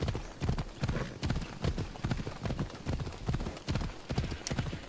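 Steady clip-clop of horse hooves in Assassin's Creed Odyssey at a brisk, even gait, close and fairly loud, with a faint synthetic game-like backdrop.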